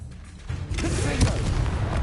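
A Confringo explosion spell goes off in a Harry Potter video game, a low booming blast that swells after half a second and rumbles on steadily, dense and fairly loud.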